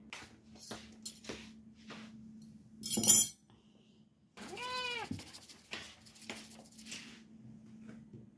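A cat meows at dinner time, one clear drawn-out meow mid-clip among faint clinks of dishes and a low background hum.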